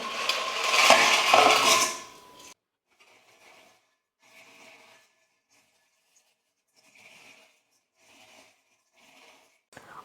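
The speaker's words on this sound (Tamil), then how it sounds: "அதில் முதல்ல ஓமப்பொடியை போட்டு கொஞ்சம் உடச்சி விட்டுக்கலாம்" Crunchy omapodi (sev) is crushed by hand in a large vessel for Diwali mixture, starting with a loud rustling crunch and then fading into a few softer, scattered crackles.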